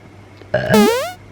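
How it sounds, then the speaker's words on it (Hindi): A single loud, close burp from a woman, a short croaking belch that rises and warbles in pitch before fading, alone with no talk. "मैं कभी भी डकार ले सकती हूँ।"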